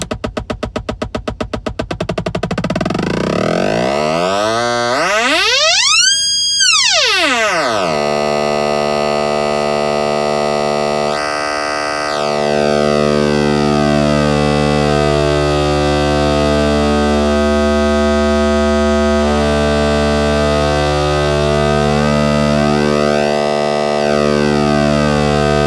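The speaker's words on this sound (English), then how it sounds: "let's get into our pulse wave" A pulse wave tone from a Moog Spectravox synthesizer sweeps through buzzy, shifting pitches, with one sharp rise and fall near the start, then long droning tones with no voices.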